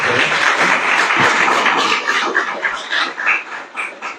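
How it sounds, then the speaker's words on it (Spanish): Audience applause at a university panel of political science graduates, a dense, loud burst of clapping that holds steady and then thins and tapers toward the end, with no talk over it. "Aplausos."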